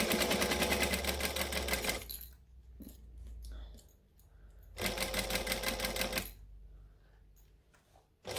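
A sewing machine runs in two fast, steady bursts as it stitches along the edge of fabric, loud and close, with quiet pauses and light handling sounds between the runs.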